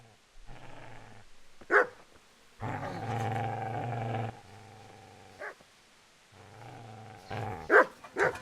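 A dog in the video game Kingdom Come: Deliverance growls and barks in several bursts, with low sustained growls between sharp, loud barks and brief pauses of quiet, no speech over it.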